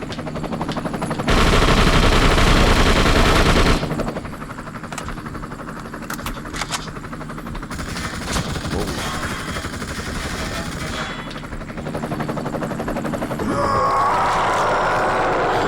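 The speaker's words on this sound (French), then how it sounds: "Ça c'est le mitraillette, c'est le fusil." Sustained machine gun fire from the video game The Suffering, loud and dense bursts with rapid repeated shots, mixed with other game effects and rumble over the stretch.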